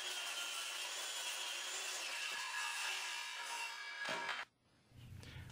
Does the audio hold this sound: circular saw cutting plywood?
yes